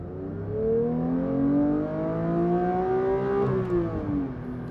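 A Porsche 992 GT3 Touring drives on the road, its engine rising steadily in pitch as it accelerates and then easing off, heard loud and close from inside the car.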